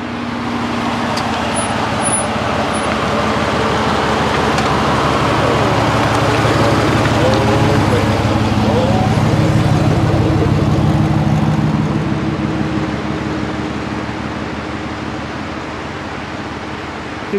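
A Jeep crossing a wooden bridge with a 3-ton weight limit, a steady loud engine rumble and roll swelling toward the middle and easing off at the end, with no clear talk.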